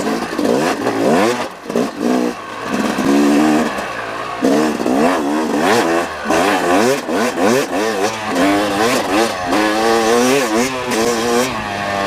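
A 2018 Yamaha YZ250X dirt bike on a trail ride, running rich and lugging in third gear. The engine stays close and loud throughout, its revs rising and sagging unevenly, with no voices.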